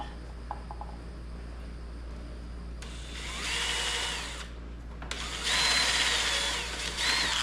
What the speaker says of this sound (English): this plastic's so freaking dry and brittle, and I'm trying to drill it